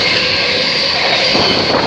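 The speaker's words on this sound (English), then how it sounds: "Also passing is the London Midland Service, London Euston." London Midland Class 350 electric train rushing past at Bletchley station, a steady loud broadband roar with a high whine, close by and continuous with no talk.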